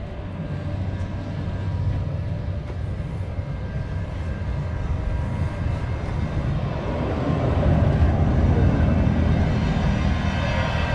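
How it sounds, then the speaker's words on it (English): A low rumbling old tram draws steadily nearer in Port de Sóller, the rolling noise growing louder toward the end, no voices present. "Here's the tram coming up."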